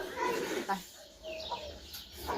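Farmyard chickens clucking in short scattered calls at moderate distance, mixed with light human chatter and background noise.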